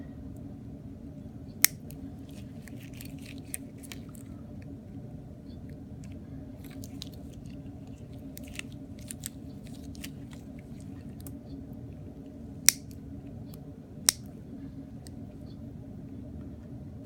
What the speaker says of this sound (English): You can rotate your clippers to get either side.